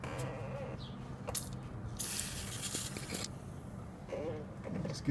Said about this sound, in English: So I'm going to hit both of these with a little bit of penetrating oil to help them come apart.